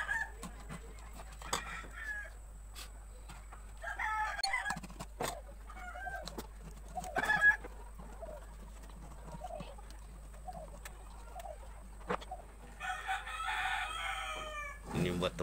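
A rooster crows faintly around an Iban Dayak longhouse in Sarawak, with scattered clucks and a longer crow near the end over quiet outdoor background and distant voices.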